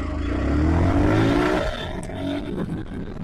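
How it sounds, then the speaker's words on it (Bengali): A 2022 Suzuki Gixxer Monotone motorcycle accelerates from a standstill toward 60, its engine note climbing briefly up close before giving way to rushing wind and road noise. "এখন আপনাদেরকে 0 থেকে 60 স্পিডে তুলে দেখাবো কত সেকেন্ডে এই বাইকটা সময় নেয়।"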